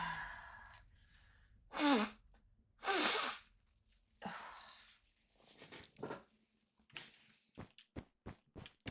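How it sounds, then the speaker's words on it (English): A person blowing their nose, with several loud, breathy honking bursts close up, followed by a quick series of short sniffs or snorts, in an otherwise quiet room. "Excuse me, need to blow my nose again."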